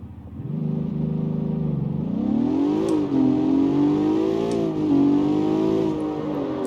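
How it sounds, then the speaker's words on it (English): A Ford GT's V6 engine in the video game CarX Street revs up and down with a low, rumbling tone, rising in pitch in several smooth surges, steady and close. "Okay, it actually does sound like a V6"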